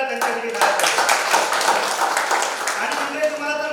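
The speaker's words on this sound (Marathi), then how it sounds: "एकदा जोरदार टाळ्या त्यांच्यासाठी" An audience at a public event in Ratnagiri on rural electricity claps together in a sustained round of applause, mixed with voices and a tonal background.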